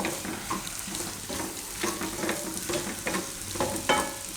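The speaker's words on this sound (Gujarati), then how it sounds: "હવે મિક્સ કરીશું." Spices, including coriander-cumin powder and red chilli, stirred into a frying methi bhaji gravy in a pan: a continuous sizzle broken by repeated scraping strokes of a spoon, steady and close.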